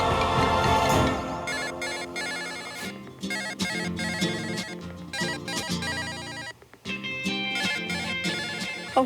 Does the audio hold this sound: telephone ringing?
yes